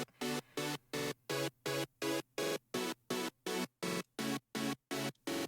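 Synth pad chopped into a steady rhythmic pulse by an LFO plugin, about fourteen evenly spaced bursts with sharp on-off gating over five seconds, fairly quiet and heard alone.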